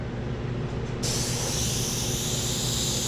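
An airbrush sprays paint through a round stencil while painting a sunset, a steady close hiss that jumps louder and brighter after the first second and then holds constant.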